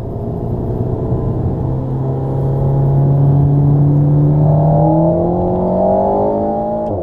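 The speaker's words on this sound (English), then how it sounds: "quick throttle response and amazing sound, especially when you're shifting down the gear" A 2019 Alpine A110 engine heard from inside the car revs up with a rising, droning note, then drops through gears as it downshifts, loud and steady with no talk.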